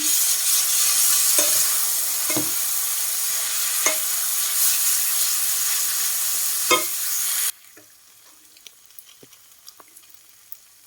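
Pad thai noodles are stir-fried in a pan after a splash of water, a loud steady sizzle with scraping stirs every second or two that cuts off sharply, leaving quiet scattered clinks.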